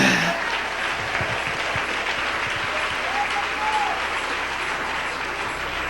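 A church congregation applauds during a sermon, sustained, even clapping that fills the room from start to finish, with faint voices mixed in underneath.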